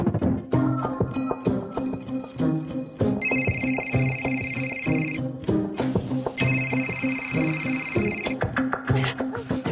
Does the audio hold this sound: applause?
no